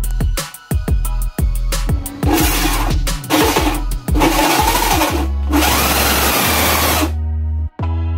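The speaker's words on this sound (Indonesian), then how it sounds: "Mata bor Hulso seperti ini kayaknya tidak bisa untuk melubangi sebuah pelat besi." A power drill with a hole saw bit whines and revs in repeated short bursts with grinding pauses against a metal ammo box plate, then runs steadily for a few seconds before stopping, loud and close.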